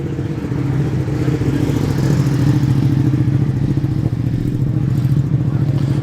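A Ducati motorcycle passes close by during a classic car and lorry run, its engine a loud, steady rumble filling the whole stretch, with voices mixed in.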